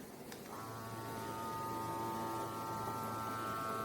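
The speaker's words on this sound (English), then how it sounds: "It is electric mason jar vacuum sealer." An electric mason jar vacuum sealer starts up after a click and runs with a steady, faint motor hum and whine, unchanging and with no talk.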